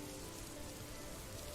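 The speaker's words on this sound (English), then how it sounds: "As the gentle rain continues to patter softly in the background" Gentle rain patters steadily and evenly on a surface, a dense, continuous hiss of fine drops with no pauses or other sounds.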